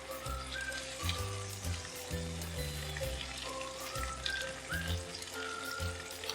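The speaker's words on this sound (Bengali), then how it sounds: "দেখো হালকা হালকা ফ্রাই হবে, চিকেন দিয়ে দেবো, আর এই পাশে আমি মশলাটাকে কুক হতে দেবো।" Masala and chicken frying together in a pan for a Khandeshi chicken curry, heard as a close crackling sizzle with bursts of stirring and scraping against the pan.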